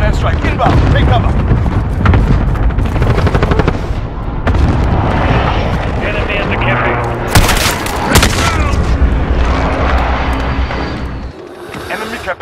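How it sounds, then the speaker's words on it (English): Heavy explosions from a precision airstrike and cluster strike in Call of Duty: Modern Warfare boom and rumble loudly and almost continuously. Gunfire and sharp blasts rise above them, and game voice announcements play throughout. "Enemy precision airstrike inbound"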